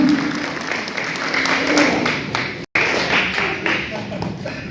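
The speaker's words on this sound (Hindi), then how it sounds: "जोरदार ताली स्वागत करिए सरकार।" At a Madhubani art programme, the crowd breaks into loud applause in welcome, a thick, continuous clatter of hands with a brief dropout midway and voices underneath.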